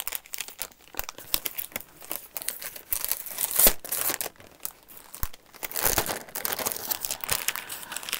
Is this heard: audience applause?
no